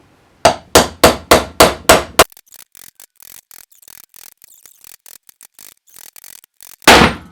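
Hammer tapping a Porsche 928 brake part into place: five sharp, loud metallic strikes in quick succession, then faint scraping and handling noises, ending with one more heavy strike.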